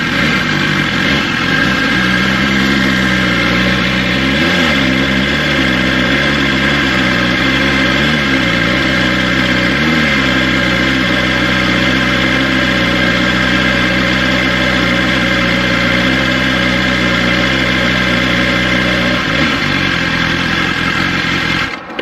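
A BMW S1000XR motorcycle engine runs steadily and close, ridden slowly on the clutch and rear brake, with small rises and dips in engine note as the clutch slips, holding a continuous loud drone throughout.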